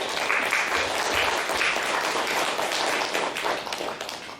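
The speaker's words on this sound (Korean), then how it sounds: "축복하면서 박수 한번 크게 올려드립시다." Church congregation applauding at a Sunday worship service, a dense, steady wash of many hands clapping that fills the room for several seconds and tapers slightly at the end.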